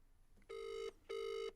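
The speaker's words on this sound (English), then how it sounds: "KG, it's ringing." Two long telephone ring tones on a call, evenly spaced with a short gap between them, clear and moderately loud with no talk over them.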